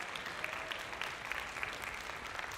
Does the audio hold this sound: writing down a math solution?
no